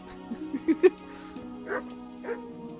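A dog in the medieval RPG Kingdom Come: Deliverance gives a quick series of short, close barks and yips that build in loudness. Fainter whimpering calls follow over a steady low game-ambience hum.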